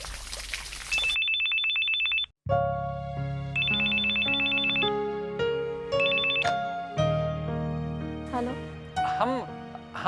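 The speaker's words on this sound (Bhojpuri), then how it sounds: "यशोदा तोहार फोन।" A telephone rings repeatedly in short electronic trilling bursts, loud and close, over a background of music and voices in a Bhojpuri household drama scene.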